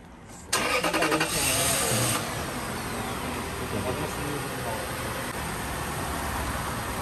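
A Toyota Celsior with a 4.3-liter V8 cranks and fires with a loud burst, then settles within a couple of seconds into a quiet, smooth, steady idle, heard close by.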